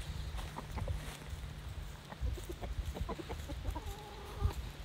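Backyard chickens cluck in short, scattered bursts at moderate distance, with a few rising calls near the end, over low steady background rumble and no talk.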